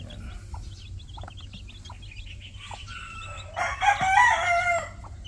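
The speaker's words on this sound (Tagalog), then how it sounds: "Ito yung 2 days old dating sisiw." Two- to three-day-old chicks on a small poultry farm, peeping in repeated high chirps, with a louder cluster of calls near the end over a steady low background hum.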